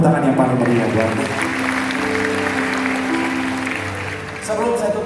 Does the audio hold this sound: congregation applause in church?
yes